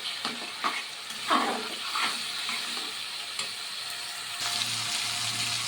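Ginger, garlic and green chilli masala frying in oil in a pan, a steady sizzle with brief stirring scrapes and small spatters, close and fairly quiet, no voices.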